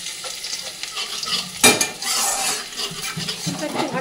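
Garlic cloves sizzle in hot oil in a wok with dried red chilies and nigella seeds, stirred with a metal spatula; a sharp clank of utensil on pan cuts in midway, then the frying hiss and scraping carry on up close.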